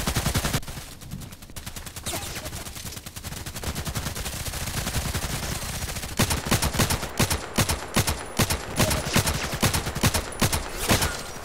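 Rapid bursts of RFB rifle fire in the Contract Wars shooter, sharp repeated shots in quick succession throughout, growing denser and more evenly spaced in the second half, loud and close with no talking.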